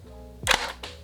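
A homemade Arduino Bluetooth sentry gun fires once, a single sharp snapping pop followed by a brief second click, close and loud against a quiet room.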